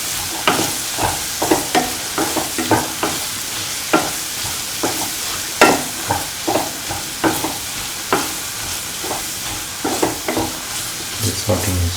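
Ginger, garlic and mustard seed sauteing in a pan for a bitter gourd pickle, with a steady sizzle of frying under repeated close scraping and stirring strokes, no voices.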